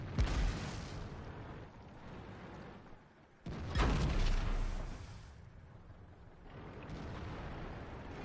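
Tank cannon fire in World of Tanks, a T110E3 heavy tank match: deep booming shots with long rumbling decay, two big blasts a few seconds apart over continuous battle noise.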